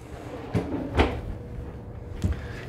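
A kitchen drawer in a studio hotel room knocks shut, with a few soft thuds and slides spaced over a couple of seconds against a quiet room hum.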